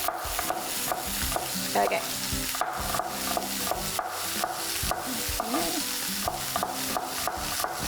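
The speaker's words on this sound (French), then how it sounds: "le poulet qui est en train de saisir avec un peu de sel, un peu de poivre" Chicken searing in a pan with salt and pepper, a steady sizzle and frying crackle with scraping stirring strokes throughout, close and moderately loud, with only a brief spoken word.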